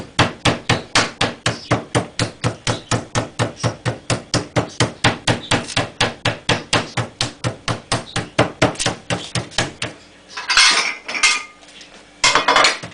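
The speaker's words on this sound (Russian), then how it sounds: "Аккуратненько так отбиваем, чтобы оно стало тоненькое." Steady, rapid pounding of a mallet on a chicken fillet, dozens of even thuds in a fast rhythm, then a few rustling scrapes near the end.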